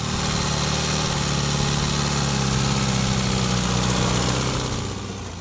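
A homemade yellow tractor built from Zhiguli car parts idles with a steady, loud, close engine rumble and vibration that holds for the whole stretch and eases slightly at the end, with no talking.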